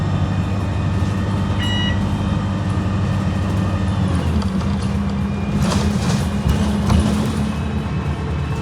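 Stagecoach bus on service 300, the Exmoor Coaster, trundling through a town centre, heard from inside as a steady loud engine rumble and road noise with a shift in engine pitch partway through.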